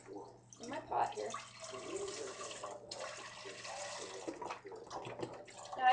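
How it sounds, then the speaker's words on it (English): Low sodium chicken broth pours into a cooking pot in a home kitchen, making a steady, close liquid splashing and gurgling that rises toward the end. A person talks over part of it. "I always like to use low sodium chicken broth. So I'm just going to pour it in my pot here."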